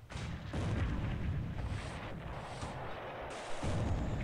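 Naval gunfire from a War in the Pacific game battle, with a 6-inch shell hitting the cruiser Kuma: a run of heavy booming blasts, several sharp onsets overlapping into a rumbling barrage with no talking.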